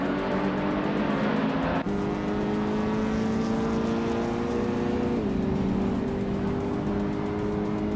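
Race cars roar off the line in a racing video game at Paul Ricard Retro, with a 2014 Hyundai Veloster Turbo on pole; a steady, loud engine drone holds throughout, its pitch stepping between gears as the field accelerates.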